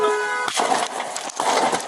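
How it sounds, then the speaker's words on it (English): A car horn honks briefly at the very start outside a police car during a street confrontation, then gives way to loud, noisy commotion. "Even honking his horn to get their attention."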